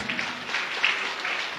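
A church congregation claps along during a sermon, a steady patter of many hands with slight rhythmic surges, moderately loud and without speech over it.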